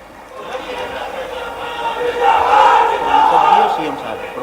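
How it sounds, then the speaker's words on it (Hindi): Outdoor crowd at a farmers' rally with a chief minister in Gwalior, cheering and clapping in a broad, sustained roar that swells midway and stays loud throughout, with voices shouting amid the noise. "एक बार फिर इतनी जोरदार तालियां बजाओ के आसमान गूंज उठे"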